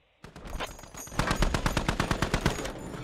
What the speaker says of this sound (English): the 50 cal just finished him off